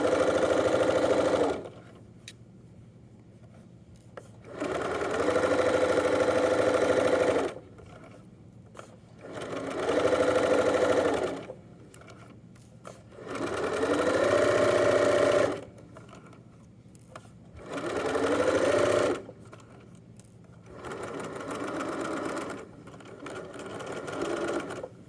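A home sewing machine stitches the U-seam of a pair of joggers in repeated bursts of steady mechanical whirring, each a few seconds long and separated by short pauses, close and loud with no talking.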